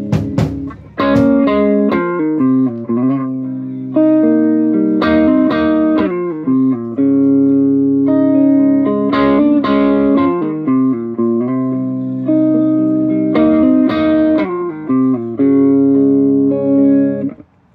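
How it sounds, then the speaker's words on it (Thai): A Gibson Les Paul Custom electric guitar, around a 2006 model, plays with slight overdrive, giving loud, continuous strummed chords and riffs with a lightly broken-up edge, with no talking. "มันจะเป็นเสียงโอเวอร์ไดร์นิดๆนะครับแตกนิด"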